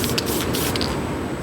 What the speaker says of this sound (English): First of all, this is a little spray tack,